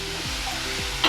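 Tomatoes frying in a pan with a steady close sizzle, a stirring scrape partway through and a brief louder hiss at the end, no voices.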